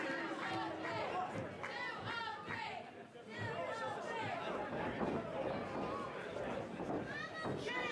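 A wrestling crowd at a 30-minute iron man match roars and chants in a dense, continuous wall of voices, with an announcer talking over the noise.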